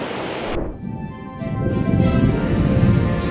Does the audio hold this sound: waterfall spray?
yes